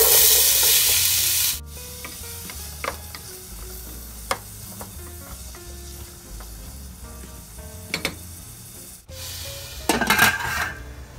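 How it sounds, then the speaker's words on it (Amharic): Yellow onions frying in oil in a pot, a steady sizzle with intermittent stirring clicks and scrapes, louder at the start and flaring up again near the end. "ዘይት ድስታችን ላይ እናደርግና ቢጫውን ሽንኩርት እናደርጋለን።"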